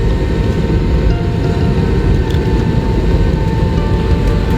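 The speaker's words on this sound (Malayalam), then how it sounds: "ഫ്ലൈറ്റ് എടുത്തു തുടങ്ങി ഗൈസ് ഫ്ലൈറ്റ് എടുത്തു തുടങ്ങിയിട്ടുണ്ട് കേട്ടോ" Passenger plane taking off from a rain-soaked runway, heard from inside the cabin as a steady, loud low roar of engines and rushing air, continuous and without talking.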